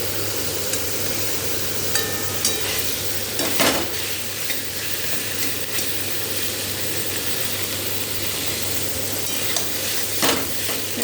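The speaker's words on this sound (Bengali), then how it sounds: "ভালো করে আগে কষিয়ে নিই।" Masala being sautéed in oil in a pan on a gas stove, a constant strong sizzle with occasional scraping and stirring knocks, close and continuous.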